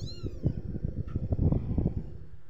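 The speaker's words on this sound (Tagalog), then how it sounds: "May 8 pusa akong alaga." Several pet cats meow in short, repeated calls, fairly close, over a low, busy background of rustling and handling noise.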